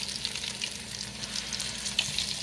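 Buffalo fish fillets browning in a hot pan, a steady, moderately loud oily sizzle with a few faint clicks and pops as the fillets are flipped.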